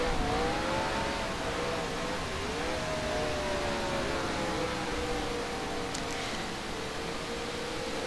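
A race car in a racing video game is driven around the infield at California Speedway, its engine a steady, continuous drone with pitch shifts as it throttles through the turns.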